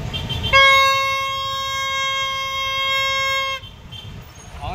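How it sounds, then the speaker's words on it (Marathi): A vehicle horn blares in one loud, steady, sustained honk of about three seconds, then cuts off abruptly, leaving low street background. "परत हॉर्न वाजवायचा आहे."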